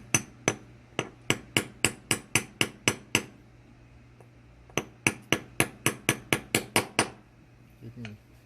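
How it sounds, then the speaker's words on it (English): Sharp, evenly spaced metallic taps of a hammer on a punch seating the anvil of a 209 shotgun primer, two quick runs of about a dozen strikes each separated by a short pause, close and loud. "I'll take the hammer and the punch and seat that anvil all the way back down."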